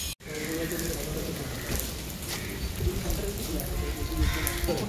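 Rain falls steadily outside near a meditation pagoda, a dense, even patter of drops heard close with nothing else standing out.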